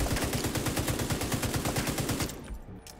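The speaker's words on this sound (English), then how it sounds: "Are you shooting the money?" In The Division 2, rapid automatic gunfire rattles in a fast, even burst inside a bank vault where the players shoot at the money. The burst stops abruptly near the end and no voices come through.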